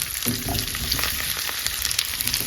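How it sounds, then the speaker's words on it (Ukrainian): Potatoes fry in butter in a pan, a steady close crackling sizzle with scattered pops and spits throughout, no voices over it. "і обсмажуємо теж до золотавого кольору. Картопля вже готова, добре підсмажилася"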